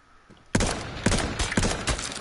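Rapid bursts of gunfire from a PS4 shooter game, loud and dense, with sharp repeated shots and a few heavier blasts landing about every half second after a quiet start.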